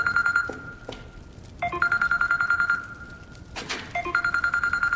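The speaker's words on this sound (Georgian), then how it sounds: "ვისი ტელეფონია? ხომ გთხოვეთ სამუშაო დროს გამორთეთ მეთქი." A telephone rings in repeated electronic trilling bursts, three rings with short gaps, fairly close and clear over a quiet indoor background.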